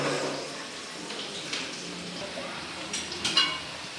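Onions sautéing in a pan while mutton curry is prepared, a soft close sizzle with a few light stirring clicks and scrapes, quiet and unbroken by speech.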